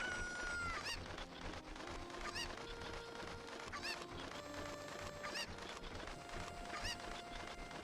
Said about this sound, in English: Grab the chicken.